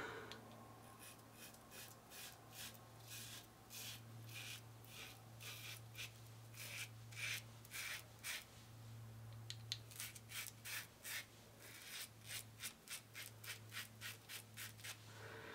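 Close, dry rasping strokes of a Schick Type M injector razor with a fifth-use Ted Pella blade shaving stubble, in repeated short bursts that quicken toward the end over a steady low hum, with no talking.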